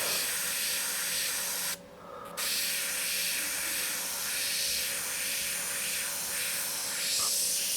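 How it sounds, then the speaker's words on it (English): An airbrush spraying paint, a steady close hiss that stops briefly once before resuming for the rest of the clip. "So I'm demonstrating airbrushing."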